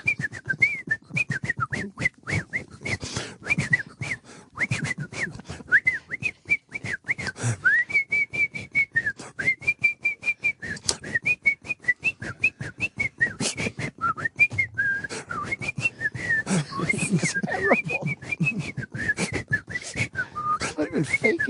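A world champion professional whistler whistles a lively tune with rapid trilling runs and sustained notes. It is loud and close-miked in a radio studio, with occasional brief talk and laughter underneath.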